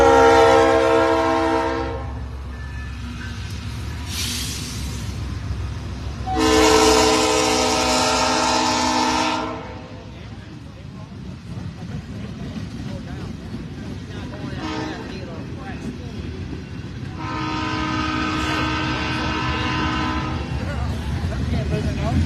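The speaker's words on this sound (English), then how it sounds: "Here comes a train. It's going to be loud." Freight train passing near a burned boiler shop, with loud repeated horn blasts in three long bursts over a continuous rumble and rattle of rail cars, close by, while people talk faintly underneath.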